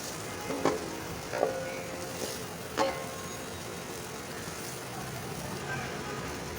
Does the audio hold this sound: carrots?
yes